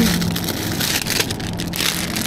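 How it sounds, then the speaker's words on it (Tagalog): Heavy rain pouring down outdoors in the Netherlands: a dense, steady roaring hiss that stays loud and unbroken throughout, with no voices. "naabutan tayo ng ulan"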